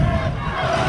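Stadium crowd at a men's university soccer championship final, York Lions against Carleton Ravens, roaring and chanting steadily in encouragement of the home Ravens, a dense, loud, continuous wall of voices without pause.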